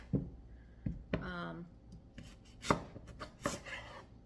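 A knife chops through cooked sweet potato on a board, giving several sharp, irregularly spaced knocks with short gaps of quiet between cuts.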